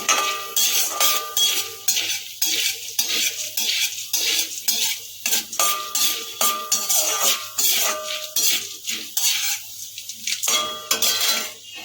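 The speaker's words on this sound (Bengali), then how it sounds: "ফোড়নটা দিয়ে একটুখানি নেড়ে নেব ভালো করে ফোড়নটাকে ভাজব" A utensil stirs and scrapes around a pan as tempering spices fry in ghee for masala chira, giving repeated clinks and scrapes in a steady rhythm with a faint sizzle underneath, close by, with no voices.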